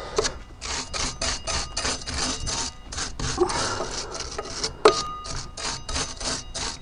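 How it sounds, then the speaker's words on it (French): A stiff brush scrubs back and forth over the rusty threads of a metal bolt exposed to the weather, a rapid, rhythmic rasping close up, with a small metallic clink near the end. "pensez à mettre un petit coup de brosse"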